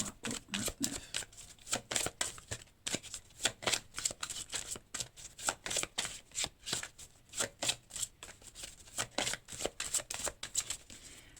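Playing cards shuffled over and over for a tarot-style reading, a dense run of quick riffling bursts in steady rhythm, close and fairly soft, with no voices.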